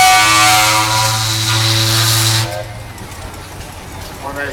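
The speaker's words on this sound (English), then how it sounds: "Let's hear your whistle, Glenn." Steam whistle on a Case steam traction engine in an outdoor tractor parade, one long loud sustained blast for over two seconds that then cuts off, leaving low engine rumble and crowd noise.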